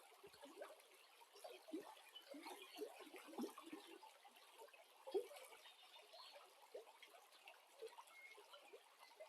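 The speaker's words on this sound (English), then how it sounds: "Why am I hearing water?" Water running through a flooded house in the video game Brookhaven, a steady wash of splashing and trickling with small irregular spikes, moderately faint and continuous, with no voices.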